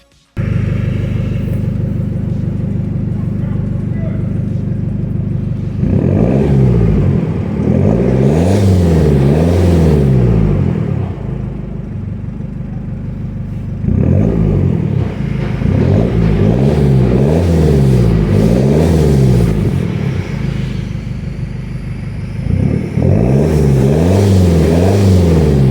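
A Ford Fiesta TDCi diesel with a stainless steel twin-exit exhaust revs hard several times, each loud rising roar falling back to a rumbling idle between pushes, close and with no talking.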